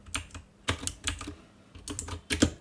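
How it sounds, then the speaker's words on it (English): Bursts of keystrokes on a computer keyboard while entering text in scriptwriting software, several quick clusters of close clicks with brief pauses between them, no voices. "So if you go here and start typing, let's say int,"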